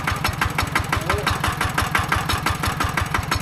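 A tractor engine chugs in steady, rapid pulses during a flood, loud and close, while people talk over it.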